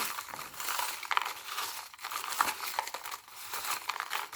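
Folded paper slips of equal size being stirred and shuffled by hand for a prize draw, giving a continuous soft rustling and crinkling close to the listener, with no voices.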